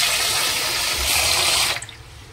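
Water poured off soaking idli batter ingredients while washing them, a steady loud rushing splash that stops abruptly near the end, leaving a faint drip.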